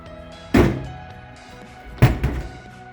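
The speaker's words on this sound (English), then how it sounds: "Lock up the canopy, nice and secure." Canopy on a GWM Cannon ute being shut and locked, two solid thunks about a second and a half apart, close and fairly loud, the second followed by a lighter rattle.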